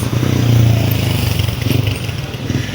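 A motorcycle passes close by on a school campus, its engine a steady throbbing drone that swells and then eases slightly as it goes by.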